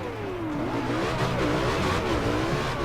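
A British hypercar engine in the video game Forza Horizon 2 revs hard and continuously, its pitch sweeping up and down through repeated gear changes, loud and close with no talking.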